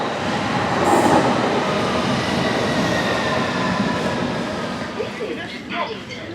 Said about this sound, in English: the train now approaching is to Wimbledon